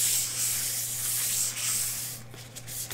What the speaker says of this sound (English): we're just going to lightly sand over the top of that